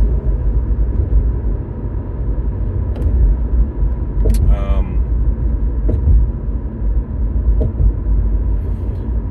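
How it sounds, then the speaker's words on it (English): Steady low road rumble and engine drone fill a car cabin while driving, constant and close, with a few brief clicks and a short squeak partway through. "I'm currently driving"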